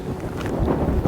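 Cold, snowy winter wind gusts across the microphone on an open hillside during an elk hunt, a loud continuous rumbling buffet with no voices.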